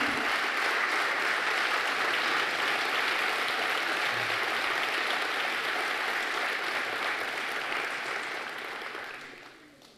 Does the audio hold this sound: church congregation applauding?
yes